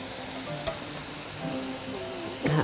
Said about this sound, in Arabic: هقلب كويس